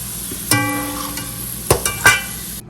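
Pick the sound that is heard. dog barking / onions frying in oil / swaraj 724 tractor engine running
onions frying in oil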